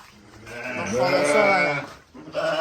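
Sheep and small lambs at a livestock sale, a close, drawn-out bleat swelling and fading, then another starting, with a busy market murmur behind.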